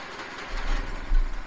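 A small Predator gasoline engine fitted to an Allis-Chalmers B tractor runs steadily, powering a grain auger, with a low rumbling drone that swells louder partway through and holds close and continuous with no talk.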